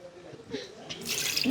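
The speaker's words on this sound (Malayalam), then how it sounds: "ഇനി ഇതിലേക്ക് 2 കപ്പ് വെള്ളം ഒഴിക്കാൻ പോണ്" Two cups of water are poured into a pot of Dindigul thalappakatti-style chicken biryani, a close splashing pour that swells at the end of a short, quiet moment.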